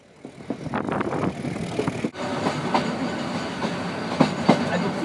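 An old 60-year-old British-built colonial railroad train in Myanmar rumbles along at slow speed, with rattling carriage noise and repeated clacking wheel beats, loud and close from inside the car.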